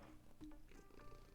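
Soft, quiet meows from Lily, a pet cat rolling in someone's lap, with faint purring in between; brief tonal calls sit low against a steady hum, no speech.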